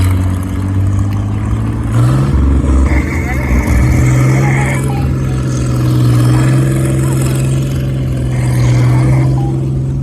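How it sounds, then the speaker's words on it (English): A big late-war German military vehicle rolls past up close, its heavy engine droning loud and steady with a rising rev as it goes by, a faint whine riding over the rumble. "Big vehicle coming up now. It's actually a late war German vehicle."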